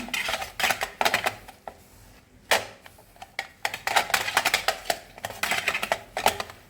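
A plate washed with Vim is wiped dry by hand, giving bursts of rapid rubbing and squeaky scraping with occasional light clatters, irregular and close, with no talking.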